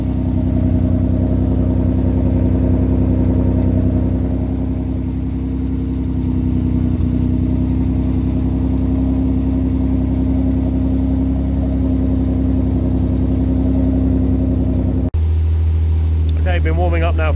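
A warmed-up Austin Healey 3000 running with a pipe fitted onto its exhaust, a steady deep engine drone that dips briefly mid-way, then cuts to a different low hum with a burst of higher noise at the end.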